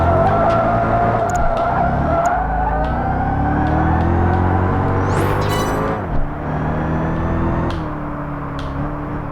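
A race car understeering in Project Gotham Racing 4: a loud, steady engine drone with shifting pitch, tyres squealing and skidding through the corner, and a brief high screech midway. No voices.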